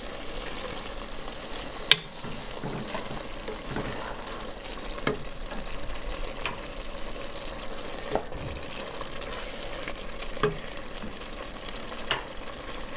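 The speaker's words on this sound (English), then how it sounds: "So now I'm going to add the wine." Sliced onions for French onion soup sizzle steadily in a pan as wine goes in, the continuous frying hiss broken by occasional sharp spatula knocks and stirring scrapes, with no talking.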